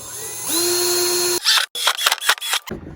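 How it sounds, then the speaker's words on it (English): A power drill whirs steadily for about a second while drilling corner holes in board-and-batten wainscoting, then stops, followed by a burst of clicks and clatter. "You drill holes in each corner."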